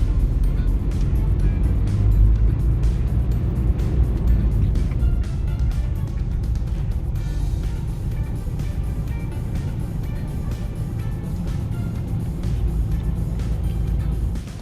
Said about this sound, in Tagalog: May mga taxi at tsaka mga jeep na dumadaan dito.